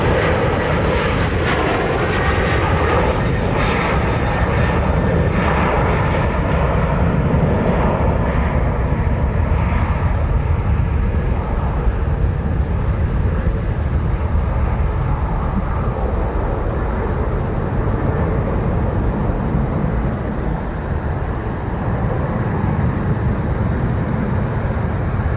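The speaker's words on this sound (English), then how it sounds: "the beautiful shots of these aircraft here taking off" A jet airliner roars down the runway and climbs out at Nashville International Airport, a loud, continuous broadband engine rumble with a rising whine, sustained for the whole stretch.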